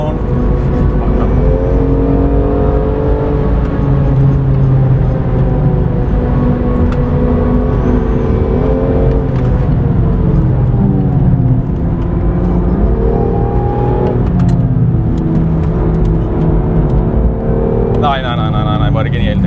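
A BMW M2 Competition's engine roars loudly while being driven fast, revving up and down through gear changes, with voices talking over the engine noise.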